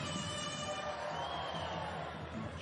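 Home fans cheer and shout steadily through a EuroLeague Women basketball game between Villeneuve d'Ascq LM and Fenerbahce Opet, a continuous arena roar at moderate level.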